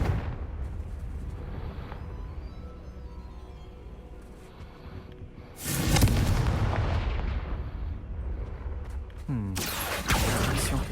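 Blasts from the Confringo fire spell in Hogwarts Legacy, with a deep rumbling burst midway and another sharp explosion near the end over a constant low game ambience.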